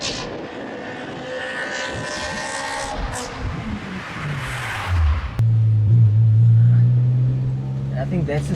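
A Toyota RunX RSI with a 2ZZ-GE VVT engine fitted with velocity stacks revs up, climbing to a loud sustained high-rpm drone that holds steady for several seconds, with people talking nearby earlier.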